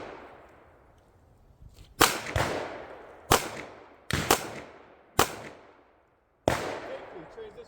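Handgun shots fired on an outdoor shooting range during a concealed-carry certification course, five sharp cracks spaced about a second apart, each with a ringing echo tail, loud and close, with faint speech before them.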